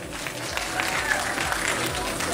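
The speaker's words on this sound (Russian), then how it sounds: "Пожалуйста, ему не надо аплодировать" An audience at the Miss KazUMOiMYa 2015 pageant claps in a steady, dense wash of applause while a voice speaks over it.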